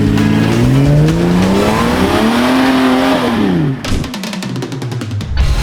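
A 4WD vehicle climbing a wet trail hill, its engine revving loud and close with rising and falling pitch, then choppy bursts and tyre slipping toward the end.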